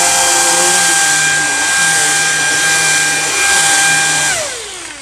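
A Samsung Jet VS70 cordless stick vacuum agitates carpeted stairs with a loud, steady high motor whine and brush hum close by, then winds down in pitch at the end.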